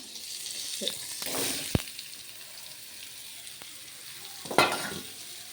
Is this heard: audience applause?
no